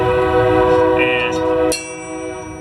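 A train rolls past with its horn sounding loud and steady for nearly two seconds before cutting off, leaving a quieter rumble of rail cars, with a brief spoken word near the start.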